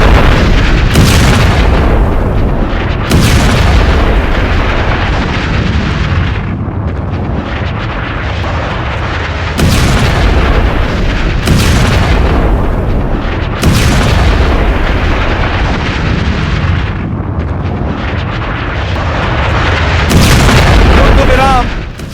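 Heavy explosions from strikes on a bridge in Tehran boom repeatedly, several loud deep blasts at irregular intervals with rumbling between them.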